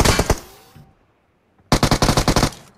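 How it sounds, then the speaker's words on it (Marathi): Rapid automatic gunfire in BGMI, aimed at stones: a loud burst of shots, a second of near silence, then a longer steady volley of closely spaced cracks. "दगड बंदुकीने फुटतात का बघा ना"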